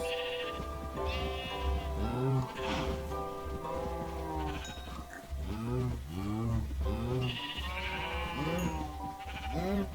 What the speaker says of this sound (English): Over here we have a couple of sheep.